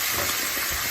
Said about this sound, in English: we're going to mix this all up and continuously stir, careful to not let it burn